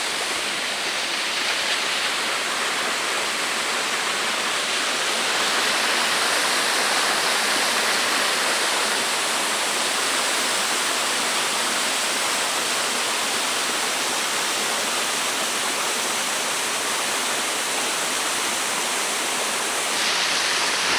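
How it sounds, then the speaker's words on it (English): A small hidden waterfall on Koh Chang island pours in a loud, steady, broadband rush that stays close and unbroken throughout, with no voices. "Now this waterfall has probably not seen by many people."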